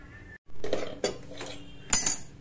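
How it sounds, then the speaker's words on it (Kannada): A metal pressure cooker lid is set on and locked over Karnataka-style chicken curry, giving three or four sharp metallic clinks and knocks spread over a couple of seconds, close and fairly loud, with no talking. "ಇವಾಗ ಕುಕ್ಕರ್ ಲಿಡ್ ಕ್ಲೋಸ್ ಮಾಡಿ 4 ವಿಷಲ್"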